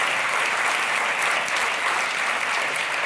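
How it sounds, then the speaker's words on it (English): Steady, dense applause from an audience at a Polymer developer summit fills the whole stretch, a continuous wash of clapping with no voices. "So big round of applause for them,"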